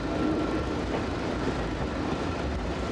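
Night train 5792 on the Dijon–Lyon main line getting under way, a steady rumbling rail noise with rolling wheels and faint clatter, continuous and fairly close, without talk.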